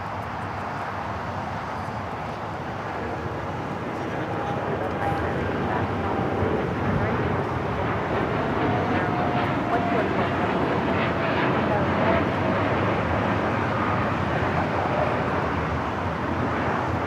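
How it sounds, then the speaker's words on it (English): A United Airlines Boeing 787-9 Dreamliner takes off at LAX bound for Newark, its jet engines a broad, steady roar that holds loud and continuous throughout. "This is United Airlines 1855 taking off to Newark on the 787-9 Dreamliner"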